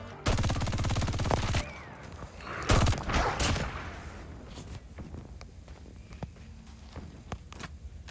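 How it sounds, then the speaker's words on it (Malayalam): Rapid gunfire in a battle royale video game, with a dense burst of automatic shots followed by a loud crack and scattered single shots and footsteps fading into quieter in-game ambience. "ആരോ സ്നൈപ്പ് വെച്ച് കീച്ചുന്നുണ്ടല്ലോ"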